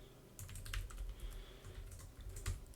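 Code being typed on a computer keyboard, a quiet run of close, irregular key clicks with short bursts and pauses, no voices.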